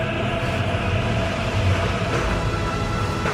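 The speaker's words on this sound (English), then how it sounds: "an unedited video of my train departing the Democratic People's Republic of Korea across the Yalu River" A train departing North Korea across the Yalu River gives a steady, loud rolling rumble with continuous rail and carriage noise throughout, and no voices.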